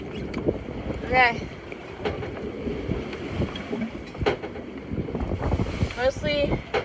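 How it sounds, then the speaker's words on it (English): Wind gusts blow across the microphone aboard a 31-foot ketch at sea with a constant rushing roar, and brief voices and creaks can be heard now and then. "It's pretty windy."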